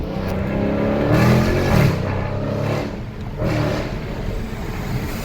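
A 2019 Dodge Challenger Scat Pack Widebody with a mid-muffler delete revs hard nearby, its deep V8 exhaust swelling and falling in loud bursts with popping and crackling between pulls.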